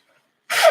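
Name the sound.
sneeze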